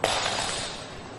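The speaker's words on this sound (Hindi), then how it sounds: "फोन गिर गया मुझे।" A mobile phone drops onto a hard floor, giving one sharp impact followed by a brief rattle that fades within a second, with no voices heard.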